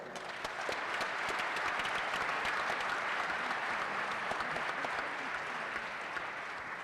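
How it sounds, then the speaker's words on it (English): An audience at a college basketball head coach's introductory press conference applauds, a continuous, even wall of many hands clapping at moderate distance and fairly faint level, with no break. "Let's give him a round of applause"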